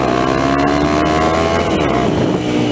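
Honda CBR250R motorcycle at top speed, a loud, steady, high engine drone with heavy wind rush throughout.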